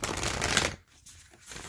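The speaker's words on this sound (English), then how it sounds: "I love the sound of cards when they shuffle" Tarot cards being shuffled by hand during a love reading, a brisk riffling flutter lasting under a second, followed by a quieter pause with faint card handling.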